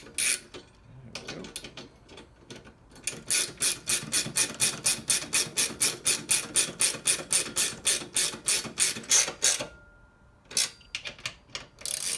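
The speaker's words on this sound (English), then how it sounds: "As I said before, a regular socket wrench will work just fine." Ratchet socket wrench clicking while setting up a Stern Stranger Things Premium pinball machine: a steady run of rapid, crisp ratcheting clicks in a regular rhythm, starting softer and broken briefly by pauses, close and loud with no talking.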